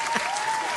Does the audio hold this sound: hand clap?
yes